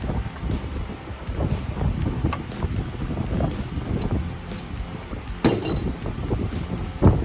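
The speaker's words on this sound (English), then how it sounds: "get a bigger wrench on it" A wrench clinks and taps against a transmission pan bolt on an AMC Rambler wagon, a scatter of light metallic knocks over gusty wind noise, with one sharper clank near the end.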